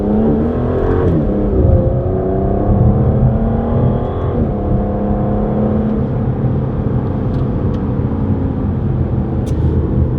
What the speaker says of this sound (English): I'm gonna go down into seconds and get a little bit further ahead and do a quick pull here